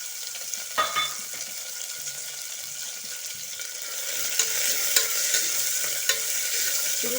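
Chopped medium onion frying in a pan for soya chunks pulao, a steady broadband sizzle with occasional scraping stirs of a spoon, growing slightly louder later; no talking.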